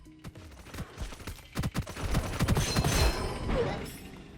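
Gunfire in the first-person shooter game Gunfire Reborn played on an iPhone 14 Pro, with scattered sharp shots building into a rapid dense burst of firing, moderately loud.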